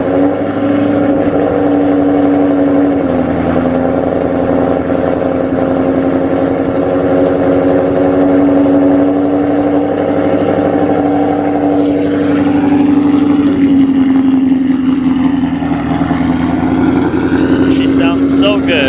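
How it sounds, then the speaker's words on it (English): A 1200hp Shelby GT500 Mustang idles steadily after a cold start, a loud continuous rumble with a low throbbing drone that holds even throughout, with a slight shift in tone toward the end. "give you guys another cold start"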